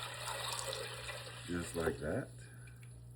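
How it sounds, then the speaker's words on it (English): Water poured from a container into a crock pot while making Cajun 15 bean soup, a brief splashing pour of about a second in the middle, close by, with a person talking before and after it. "Next thing you're gonna do is you're gonna put 8 to 10 cups of water into your crock pot."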